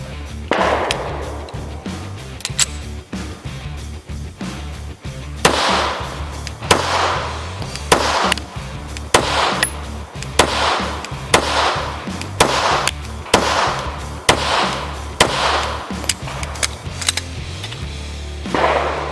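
A SIG P226 pistol fires X-Metal reloaded ammunition in a steady string of about ten loud, sharp shots, evenly spaced with short gaps, over a low background hum.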